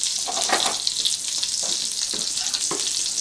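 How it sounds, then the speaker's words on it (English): Foie gras sizzles in a hot pan, its fat spattering in a bright, busy crackle with small bursts of popping, loud and close with no voices. "I'm cooking foie gras, which is a very fatty substance"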